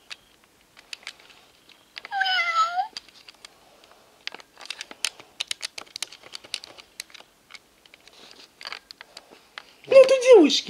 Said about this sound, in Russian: кот появился